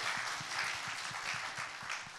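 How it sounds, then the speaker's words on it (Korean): Steady applause from a crowd, fairly faint and continuous, with a soft low thumping pulse beneath it. "아버님한테 박수 한번 쳐드릴까요?"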